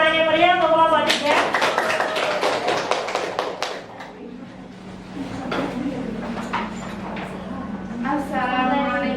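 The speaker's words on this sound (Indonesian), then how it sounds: "Kita beri tepuk tangan yang meriah untuk kelompok 3." Classroom applause breaks out for the third presenting group at a teacher training test, a burst of clapping that fades and returns, with people talking before and after it.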